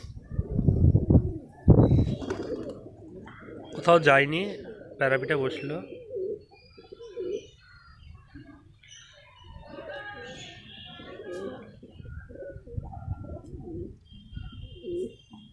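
Pigeons coo in short warbling bursts near a home loft after one bird is let go, interspersed with someone talking nearby.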